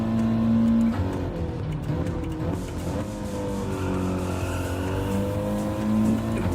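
An Audi race car in a racing video game drives hard, its engine droning steadily with shifting pitch, a rising tone near the end and faint tyre scrub, loud and continuous with no talk.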